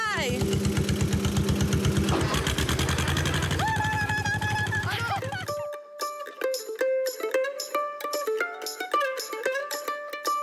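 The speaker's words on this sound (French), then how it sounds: "Et là, je repars avec mon tracteur antique" An antique tractor engine chugging with a steady low rhythmic pulse for several seconds, then cut off abruptly as lively music takes over.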